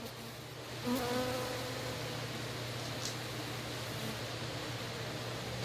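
Many bees buzz in a steady, dense drone close to the microphone, with a brief louder flyby near the start.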